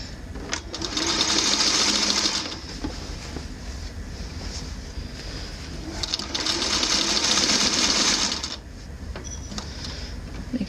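A sewing machine topstitches a narrow fabric hem in two steady, fast-running bursts of a couple of seconds each, separated by a quieter pause. The sound is close and fairly loud.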